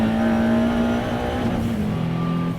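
A 730 bhp Maserati MCXtrema track car engine roars loudly and continuously on track, revving hard at high pitch with a steady, aggressive drone throughout.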